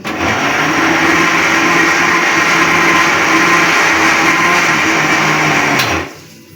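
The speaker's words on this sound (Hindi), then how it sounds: "थोड़ा थोड़ा इसलिए डाल रही हूँ ना ताकि इजीली चल जाए मशीन" A kitchen mixer grinder runs at full speed blending ingredients into a paste, a loud, steady, high whirring roar held for about six seconds before the motor cuts off and winds down.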